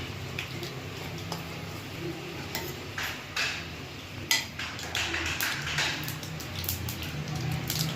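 Mustard seeds crackling and popping in hot oil in a pan alongside frying groundnuts and chana dal for lemon rice, a busy stream of small sizzling pops and clicks with occasional sharper taps of a utensil, close and steady.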